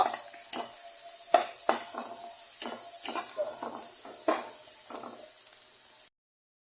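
Onion and garlic sizzle steadily in a pan, a continuous bright frying hiss with repeated scraping stirs of a utensil at roughly half-second to one-second intervals, close and fairly loud, ending abruptly.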